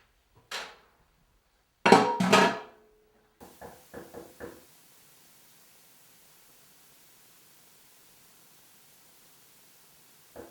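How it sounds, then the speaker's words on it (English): Knocking on a door, a single knock then a quick loud cluster of raps followed by a softer run of four taps, all fairly near and then fading into quiet room hiss. "Stop knocking on the door."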